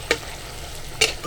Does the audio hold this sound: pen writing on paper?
no